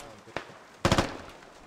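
Gunfire in the Squad video game, with a single sharp shot followed about half a second later by a louder, quick burst of several rounds that decays into a lingering tail.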